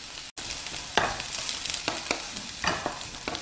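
Onions stir-fry over medium-low heat in a pan for squid stir-fry, a steady close sizzle broken by a few sharper scraping bursts as they are stirred.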